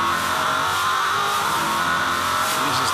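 Onboard V8 Supercar engine sitting on the rev limiter with Mark Skaife driving, 2005 Supercars race in Tasmania; a loud, continuous, buzzing high-revving roar with slight stutter, close and unbroken.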